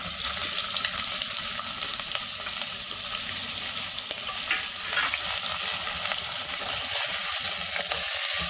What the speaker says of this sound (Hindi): अब हम इस तेल में डालेंगे ये प्याज और हरी मिर्च जो हमने काट के रखे थे।